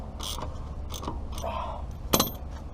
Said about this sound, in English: Tighten all the lugs down with your 21mm.